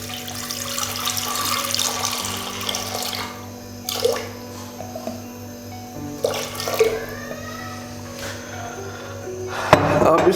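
Water from a glass poured into a cooking pot for a minced meat and potato dish: a steady splashing, running stream that continues for several seconds over a low background hum, with a few clinks.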